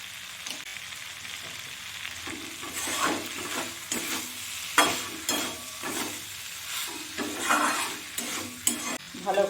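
Okra and spices stirred in a frying pan, a spatula scraping in repeated bursts over a steady close sizzle.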